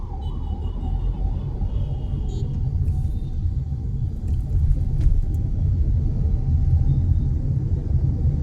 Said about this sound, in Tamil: டிராஃபிக் ஆகி போயிடுதுங்க.